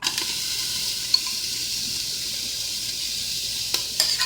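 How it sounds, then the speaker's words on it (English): Onions and garlic sizzling in a pot after meat was browned, for Zuppa Toscana; a steady close hiss of frying with a couple of faint clinks and stirring taps near the end. "So in this same pot, I'm gonna add my onions and my garlic."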